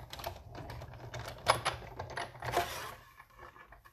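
Big Shot die-cutting machine running Whisper White cardstock through with a die, heard as a close, low mechanical grinding hum with scattered clicks and a few sharper crunches, alone without talk.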